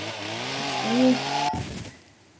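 A chainsaw runs in the video game Star Stable Online, with a steady buzzing, revving engine drone that rises slightly and then cuts off abruptly partway through, followed by a brief quieter tail.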